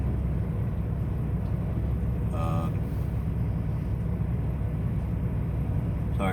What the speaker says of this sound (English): Sorry about the shaking. My truck's running.